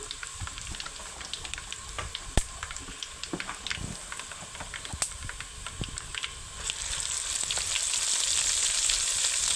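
Blended ivy gourd chutney frying in a pan, a sizzle that swells louder toward the end with scattered sharp clicks and scraping of a spoon, close and without talk.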